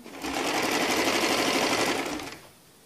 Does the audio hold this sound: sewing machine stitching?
yes